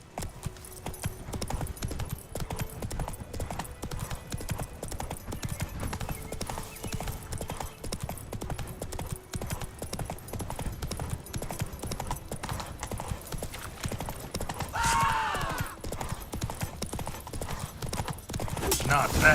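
The horse Roach from The Witcher 3 gallops with continuous, driving hoof clatter, and a brief neigh cuts through midway over faint background game sound.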